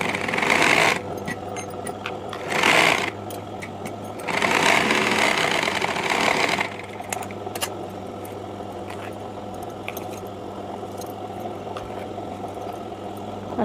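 A sewing machine joins blouse lining to the main cloth in three loud, close bursts of fast stitching, followed by a long stretch of quieter, steadier running with small clicks.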